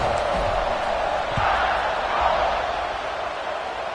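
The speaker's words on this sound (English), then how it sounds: "They're set to kick it off, and this crowd now ready to get behind them." A football stadium crowd at an Alabama vs Tennessee game gives a steady, broad roar of cheering before kickoff, loud and continuous with no distinct voices standing out.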